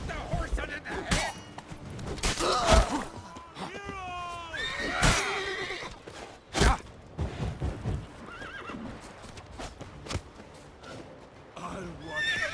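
Horses in a fight scene of the video game Witcher 3 neigh and whinny repeatedly among hoof clatter, sharp impacts and a voice or two, the cries loud and close in an agitated, uneven sequence.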